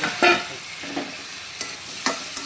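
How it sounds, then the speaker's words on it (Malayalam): Onion, cloves and cinnamon sauté in ghee with a soft, steady sizzle up close, while a spoon scrapes and stirs in several short strokes. "സവാള ഇച്ചിരി നെയ്യൊക്കെ ഒഴിച്ച് ഗ്രാമ്പു കറവപ്പട്ട എല്ലാം ഇട്ട് വയറ്റിക്കൊണ്ടിരിക്കുകയാണ്"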